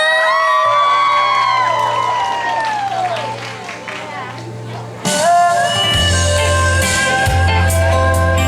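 At an outdoor opening-night concert of the Baihe Lotus Festival, music and an amplified voice give way midway to a burst of crowd applause, cheers and whoops. The crowd noise continues under the ongoing music.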